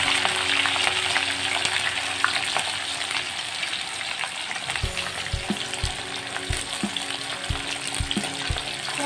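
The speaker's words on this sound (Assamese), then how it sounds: "তাৰপিছত মই পিঁয়াজ দি দিছোঁ, পিঁয়াজখিনিও ধুনীয়াকৈ এবাৰ লৰাই ল'ম" Onions frying in hot oil give a steady, close hiss, and a spatula stirs them. Rhythmic low thumps of the spoon against the pan come in during the second half.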